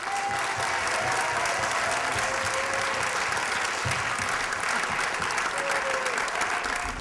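Sustained audience applause welcoming two guests, illustrators Quentin Blake and François Place, at a youth festival event; steady, dense clapping fills the hall throughout without a break.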